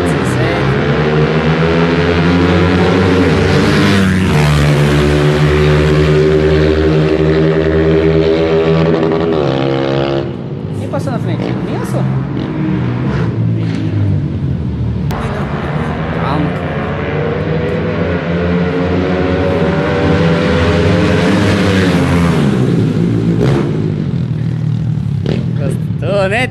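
Two modified Honda Titan motorcycles rev hard on a city avenue, their loud engine notes repeatedly climbing and falling in long sweeps while voices talk over them.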